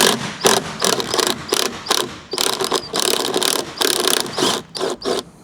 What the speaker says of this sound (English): maybe it's best to undo this bolt and have this loose and out so we can remove these safely